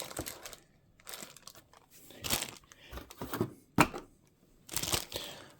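A sturdy cardboard box and a large plastic bag packaging an air pistol are handled up close, producing scattered crinkling, rustling and tapping sounds in irregular bursts.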